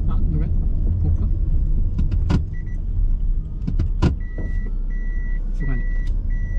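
Inside a moving car on a road near a gorge, steady engine and road rumble runs under a few clicks and short electronic beeps, with occasional voices talking.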